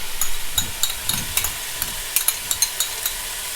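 Onions and fresh ginger sizzling in a hot pan for chicken korma, a bright continuous hiss with a few soft stirring scrapes and small clicks, close and fairly loud, no voices.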